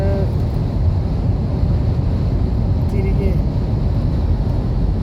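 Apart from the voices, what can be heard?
strong wind outside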